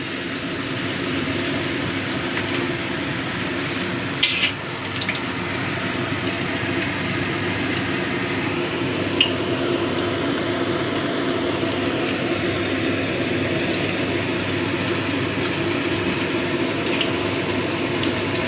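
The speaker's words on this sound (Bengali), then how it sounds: "মাছটা ব্যাটারে ভালো করে চুবিয়ে নিচ্ছি এবার দিয়ে দেবো তেলে" Batter-coated topse fish fries in hot oil over a low flame, giving a steady, even sizzle and hiss that runs on without a break, with a few small crackles.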